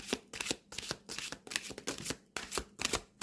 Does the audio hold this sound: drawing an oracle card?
yes